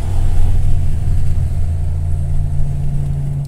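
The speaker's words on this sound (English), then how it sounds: "the baddest sounding V8 I've heard in a long time" Lancia Thema 8.32 saloon with a Ferrari V8 engine, heard from inside as the engine runs loud and steady with a deep, sustained rumble and a few slight swells in revs.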